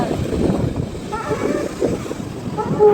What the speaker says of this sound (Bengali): দেখো সমুদ্রের ঢেউগুলো কেমন ধেয়ে আসছে